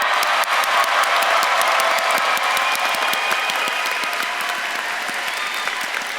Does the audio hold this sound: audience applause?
yes